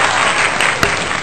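A studio audience applauds loudly to welcome a rapper onto a show. The clapping is dense and sustained with no break, and no voices are heard over it.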